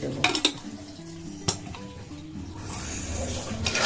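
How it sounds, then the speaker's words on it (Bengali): A pressure cooker lid clatters and clanks into place over mutton biryani as it is tightened, with a couple of sharp metallic knocks, faint scraping and a low steady kitchen hiss behind it. "এই ঢাকা আমি দিয়ে প্রেসার কুকারটা টাইট দিয়ে দেবো"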